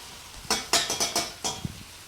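Cooked noodles are stirred in a pan: a handful of quick scraping, clattering strokes in an uneven rhythm, close and clear, followed by a soft knock.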